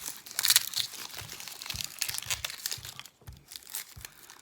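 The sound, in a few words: knife cutting an onion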